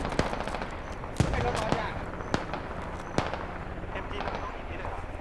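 Distant automatic gunfire in the Squad video game, scattered cracks and short bursts popping out of a busy battlefield bed, with a voice speaking over it.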